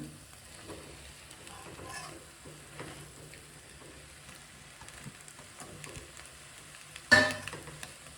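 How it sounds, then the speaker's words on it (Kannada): Rice being stirred and mixed in a frying pan for egg rice, quiet scraping and light sizzling in brief strokes, ending with a louder clatter of the spoon against the pan. "ರೈಸ್ನ ಹಾಕ್ಕೊಂಡು ಚೆನ್ನಾಗಿ ಮಿಕ್ಸ್ ಮಾಡ್ಕೊಳ್ಳಿ."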